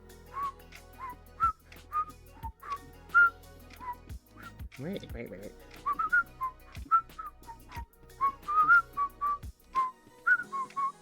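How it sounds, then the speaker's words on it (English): A person whistles a bouncy, improvised tune in short, clear phrases, set against a rhythmic low thumping beat. A voice speaks briefly partway through. "I'll just whistle some non-copyright music for you."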